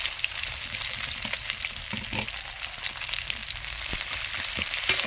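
Chopped onions frying with shrimp in a pan for a Bengali spinach chorchori, a steady close crackling sizzle with occasional stirring scrapes throughout.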